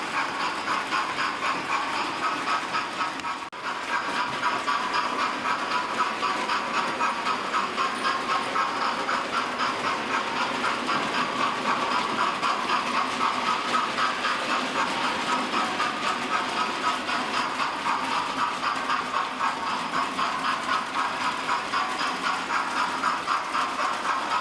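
A Hornby Merchant Navy class model locomotive, fitted with a bogie spring kit, runs steadily on a model railway, giving a continuous close whirring rumble with faint rhythmic track clicks throughout, no talking.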